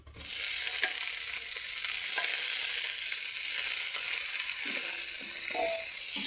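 Shredded cabbage hits hot oil in a pan, starting with a sudden loud sizzle that settles into a steady close hiss, with faint crackles and a few clinks of a spoon.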